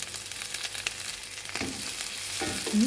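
Garlic and onion frying in a pan, a bright steady sizzle with crackling bursts and a couple of stirring scrapes, close and continuous, with no talking.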